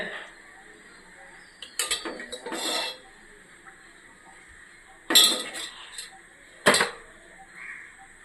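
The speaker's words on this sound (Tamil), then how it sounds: "கடாய் வச்சுக்கலாம். எண்ணெய் ஊற்றிக்கலாம்." A metal kadai set down on a stove and oil poured in, heard as a few separate clanks and scrapes of cookware close by between quiet gaps, with a soft trickle late on.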